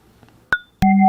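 A drum patch on a Nord Micro Modular synthesizer: a soft muffled tap, then a sharp struck hit, followed by a loud sustained electronic tone with steady pitched overtones, close and alone.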